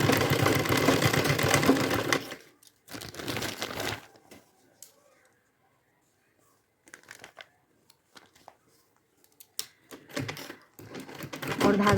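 A sewing machine stitches an overlap seam on a cloth bag, running in close, loud bursts of rapid mechanical whirring separated by quiet pauses and softer intermittent clicks.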